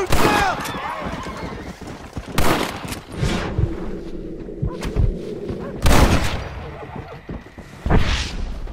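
Horses whinny loudly amid galloping hooves and bursts of gunfire in a chaotic chase scene, with shouting voices mixed in throughout.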